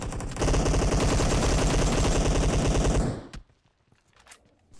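Rapid AKM automatic gunfire in PUBG Mobile, a loud sustained burst of about three seconds that cuts off abruptly, followed by a faint stray shot and quiet game ambience.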